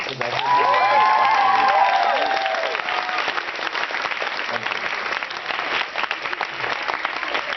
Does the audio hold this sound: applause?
yes